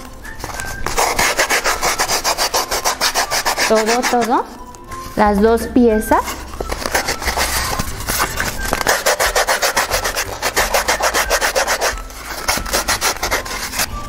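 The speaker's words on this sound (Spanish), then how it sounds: "Igual con la lija hacemos esto. Con el cuerpecito lo vamos a lijar" Sandpaper is rubbed over the wooden body pieces of a rabbit-shaped candy dish, giving a steady, close scratchy rasp that runs nearly the whole time, with a brief pause and a voice speaking in the middle.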